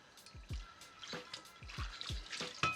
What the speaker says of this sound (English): And then we'll give it a rinse under the faucet.